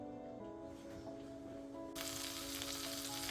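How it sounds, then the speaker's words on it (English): Butter melts gently in a pan over low heat, giving a soft, steady, close sizzle that brightens into fuller crackling partway through, with no talk. "So our butter's melting on a low heat"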